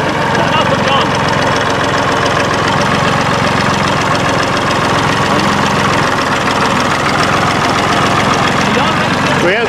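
A Massey Ferguson 133 tractor engine runs steadily at a loud, close idle, a continuous knocking diesel chug with no pauses, with someone speaking briefly over it.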